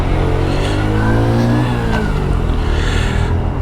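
A small Daytona Hobby 50 engine revs hard while riding through city streets, a loud, continuous close buzzing drone that rises and dips in pitch as the throttle is worked.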